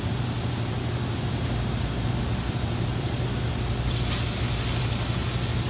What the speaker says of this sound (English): And we're going to sear that filet nice and hard on each side